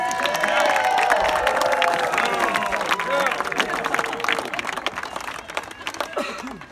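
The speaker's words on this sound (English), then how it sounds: "Guys, let's give Michelle a big round of applause." An audience claps steadily for Michelle, the applause mixed with cheers and whoops, loud and sustained before slowly thinning out.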